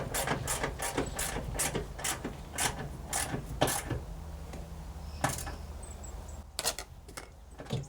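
Ratcheting and clicking as a rear sliding door hinge is tightened on a Toyota Tarago/Previa TCR10 van, a steady run of close mechanical clicks and metallic taps at an uneven rhythm.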